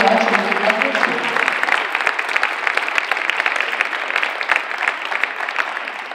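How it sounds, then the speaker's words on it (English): Sustained applause from a large room at a high school sports banner ceremony, many hands clapping in a continuous wash with a few louder claps near the start. "give you a round of applause"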